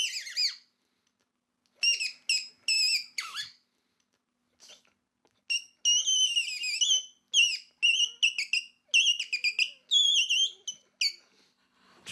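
A handmade bird whistle, softened by wetting, blown to mimic a Japanese nightingale: a run of bright warbling chirps and trills in bursts, close and clear, with short pauses between phrases and no talking.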